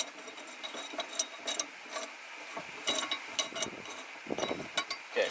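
A Ventrac 4520Z Tough Cut mower blade being turned by hand, giving a string of light metallic clicks and ratcheting ticks, close by with no voices.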